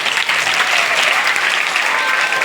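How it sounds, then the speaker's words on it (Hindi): A room full of people claps loudly and steadily to welcome a guest at a girls' self-defence session, a dense, continuous applause from start to finish. "मैं चाहूंगा जोरदार ताली से स्वागत करें"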